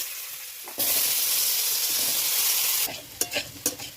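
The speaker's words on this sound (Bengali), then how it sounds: "এখন এই মাছ ভাজা তেলে আমি আলু আর সজনে ডাঁটাগুলো ভেজে নেব।" Potato pieces and drumstick (moringa) pods sizzle loudly in hot mustard-style oil left from frying fish, a steady close crackle that drops back to quieter spitting with a few sharp stirring clatters near the end.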